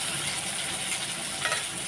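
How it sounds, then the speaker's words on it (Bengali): Steady, close sizzling of a piece of fish frying in oil, a dense crackling hiss that holds evenly without pause. "এক পিস মাছ ভাজা বসিয়ে দিয়েছি"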